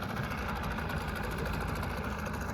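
A boat's outboard engine idles with a steady, even mid-pitched rumble and fine rapid pulsing, close and continuous throughout.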